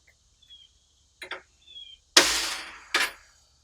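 Select A Catch SAC1000 trap firing off, with a sharp, loud snap and a brief rattling decay, followed by a second short click; faint small taps come before it.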